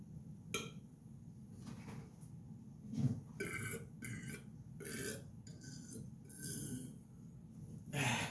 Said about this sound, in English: without a good burp